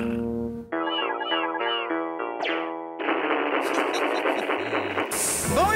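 A cat meows a few times among layered music and noisy effects.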